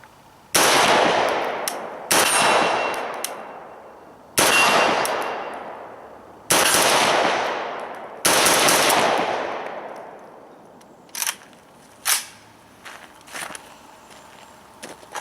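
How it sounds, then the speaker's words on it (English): An Arsenal Arms AK-74 rifle fires five loud, sharp shots spaced about two seconds apart, each with a long ringing decay outdoors, followed by faint clanks and handling noises. "now we're going to go ahead and shoot this Arsenal Arms gun"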